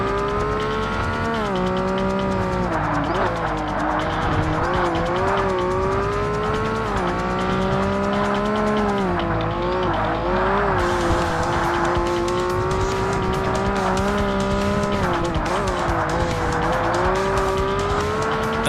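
A Honda NSX races in Forza Motorsport (2005), its engine droning loudly and continuously with rising and falling revs as it shifts through gears, with tires squealing through corners.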